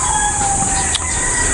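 A rooster crows at mid distance outdoors in the Philippines, one drawn-out call over a constant high-pitched background hum.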